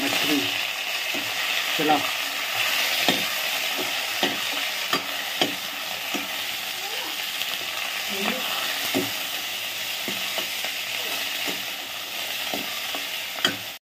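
Small fish fry in a pan with browned garlic, giving a steady close sizzle broken by repeated scrapes and clatter of stirring, with a brief spoken word.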